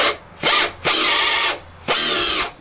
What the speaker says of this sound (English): I'm using a number 17 drill bit, which is actually keeping it perfectly centered in the rivet.